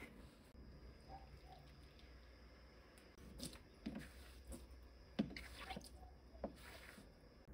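Boiled water is poured and splashed while a kitchen sink is washed clean for kneading bread dough, giving scattered wet drips, squishes and sloshes that grow louder midway, close and without talk.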